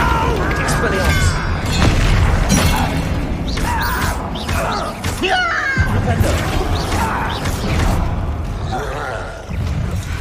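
Spell casting in Hogwarts Legacy, with repeated loud magical bursts, crashes and whooshing hits layered over constant game music and effects; a voice shouts the spell name during the dense, busy combat.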